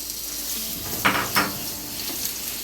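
Green banana paste stirred in a pan of hot mustard oil, a soft steady sizzle broken by two brief scraping stirs close by.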